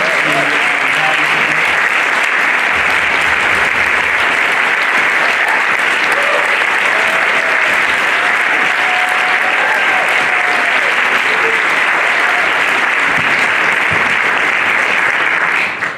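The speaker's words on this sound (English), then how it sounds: "a round of applause for our guests" A sustained round of applause from an audience at a public talk and event, dense, loud and steady clapping with a faint murmur of voices mixed in, continuing without a break.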